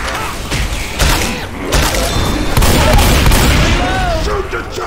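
Gunfire in Left 4 Dead 2 rattles out in dense bursts and sharp cracks over a loud, busy mix of game noise, with a voice talking faintly underneath.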